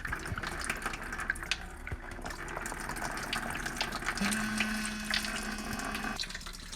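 Coolant water running out of a disconnected radiator hose on a 2000 Ford AU during a water pump and pulley replacement, a steady close gushing and trickling flow with a faint tonal hum joining partway through.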